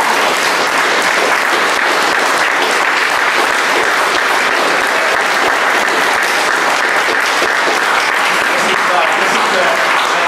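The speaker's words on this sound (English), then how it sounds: "So, big round of applause." An audience at a public meeting claps steadily and loudly for the full stretch, a dense, even wash of applause close by.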